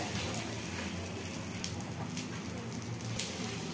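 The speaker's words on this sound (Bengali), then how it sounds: "এখন আমি আরো কয়েকটা ভেজে নিচ্ছি এরকম করে।" Egg toast sizzles in a frying pan, giving off a steady, even crackle and hiss like light rain, close and continuous with no talk.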